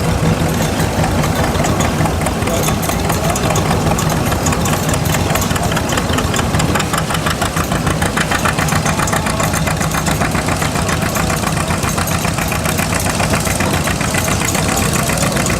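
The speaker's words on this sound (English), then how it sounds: "That tractor doesn't have any trouble pulling that." A tractor engine works hard pulling a four-bottom plow, a loud, steady, throbbing rumble with a knocking beat that continues without a break.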